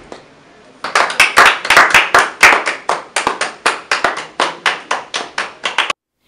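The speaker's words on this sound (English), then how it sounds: "clap." A small group of students claps in unison, a rhythmic series of sharp, close hand claps starting abruptly after a short pause and stopping cleanly, with no talking.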